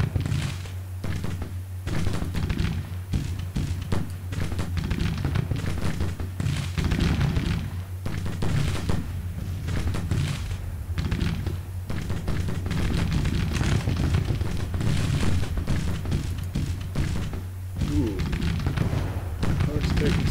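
Artillery and musket fire in Grand Tactician: Civil War keep up a constant rumbling barrage of booms and crackle from a distance, with a low steady drone beneath and someone talking over it.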